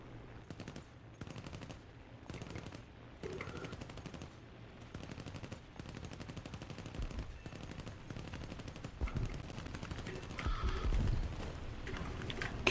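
Aircraft machine guns fire in the War Thunder video game during a dogfight with a B-25 bomber, sounding as repeated rapid bursts of gunfire over a steady engine drone throughout.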